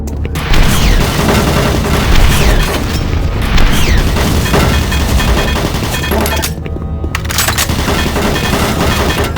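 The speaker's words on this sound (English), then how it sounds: "Warning. Automated turret guns online." Automated turret guns fire in Doom 3, producing dense, continuous rapid bursts and heavy booms that stay loud and close throughout, with a brief dip partway through.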